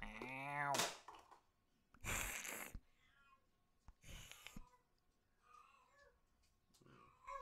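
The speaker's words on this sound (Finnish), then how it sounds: "Toi kissan kiima ei lopu ikinä oikeesti." A cat in heat yowls in a long, rising wail at the start, followed by shorter cries and breathy sounds, while a person talks between them.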